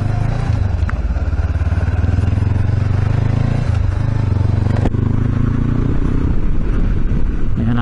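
Honda CB500X motorcycle engine while riding over bumpy dry dirt in a park, a loud steady mid-pitched drone with rattles and scrapes, pitch shifting slightly with throttle changes, continuous throughout.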